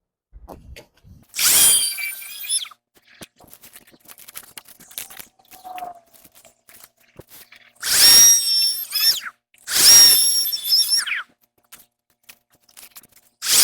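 A saw blade bites into rotten log wood during yard cleanup in three separate loud bursts, each a few seconds long, with quieter gaps of small clicks and handling noise between cuts.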